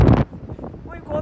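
Strong wind buffets an outdoor microphone in a loud rumbling burst at the start, then eases into a lower gusting roar with brief rustling for the rest.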